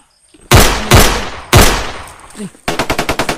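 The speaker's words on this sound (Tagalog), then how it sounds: "may putukan." Gunfire: three heavy single shots spaced about half a second apart, then a rapid automatic burst of evenly timed shots, loud and close.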